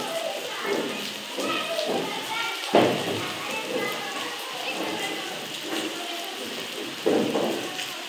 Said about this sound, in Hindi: अभी तक तेज़ बारिश हो रही है